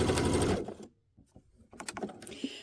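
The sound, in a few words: sewing machine feeding quilt fabric with yarn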